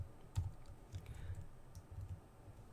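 Soft, muffled typing on a computer keyboard while coding, faint and low under a steady room hum, with a few scattered key taps.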